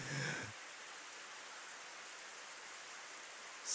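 Steady hiss of rain in the visual novel If My Heart Had Wings, a soft even downpour filling the background for several seconds after a brief louder patch at the start, with no talk over it.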